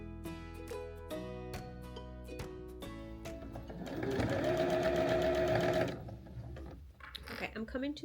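A sewing machine stitches a seam on a small tote bag made from 10-inch fabric squares, with bursts of rapid mechanical whirring and a longer steady run, while a person talks throughout.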